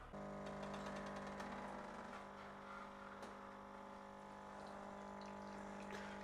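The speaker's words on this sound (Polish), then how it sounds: "Kawa niech się nalewa" A home coffee machine pours coffee in a kitchen, with a steady droning pump hum and trickling liquid running continuously at close range, with no talking.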